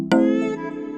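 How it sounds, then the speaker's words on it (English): A single sustained cello lead note from a beat made in FL Studio, with a sharp onset, a rich bowed tone and a steady decay over about one second. "this cello sound was taken from one of my previous beat"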